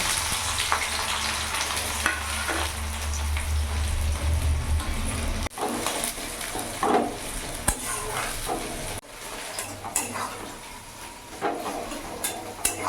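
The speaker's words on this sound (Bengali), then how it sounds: "গোটা গরম মশলা আমি ফোড়নে দিয়ে দিলাম পেঁয়াজ কুচোনো আমি দিয়ে দেবো" Whole garam masala and chopped onion fry in a pan over a medium gas flame, giving a steady broadband sizzle with occasional stirring scrapes; the sizzle drops and shifts around each stir.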